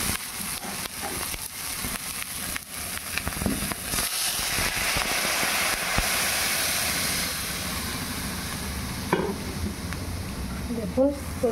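Water poured into a pan of frying soybean chunks and spice paste for banana flower curry, then stirred: a loud, continuous hissing sizzle with utensil scrapes and a clatter near the end.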